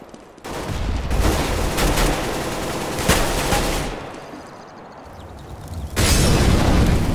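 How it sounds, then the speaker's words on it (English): A grenade blast in Counter-Strike: Global Offensive, heard as loud booming bursts within dense, continuous gunfire. "Grenade out!"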